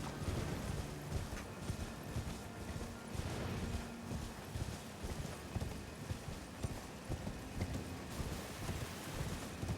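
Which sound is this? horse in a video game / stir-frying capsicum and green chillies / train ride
horse in a video game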